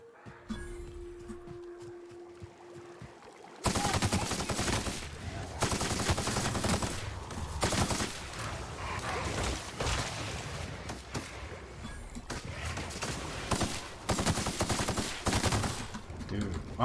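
Rapid gunfire from guns in The Outer Worlds video game, loud sustained bursts after a quiet opening, with repeated volleys and short pauses between them.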